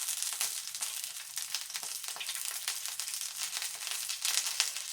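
Garlic skewers fry in a frying pan with a steady, close, bright sizzle and crackle that runs unbroken throughout, with no voices.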